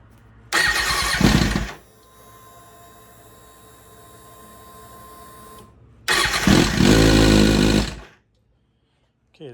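A Kawasaki ZX6R motorcycle engine is cranked by its starter during valve and cam tension work; two loud, close bursts of cranking and firing sit on either side of a steady mechanical hum, ending abruptly.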